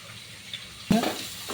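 Spiced prawn mixture with pepper powder and garam masala being stirred in a pan, a quiet background hiss then a sudden louder burst of sizzling and scraping near the end.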